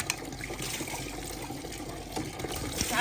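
Running water pours steadily from a tap over a few utensils being washed in a village kitchen, a continuous close splashing and trickling with no talk.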